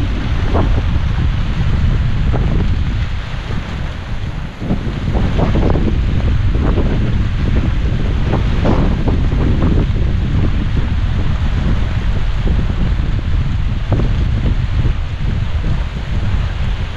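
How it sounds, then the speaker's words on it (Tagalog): Strong wind blowing across an open farm field being prepared for planting, roaring steadily and loudly against the microphone with gusty buffeting throughout, no voices. "Lakas ng hangin."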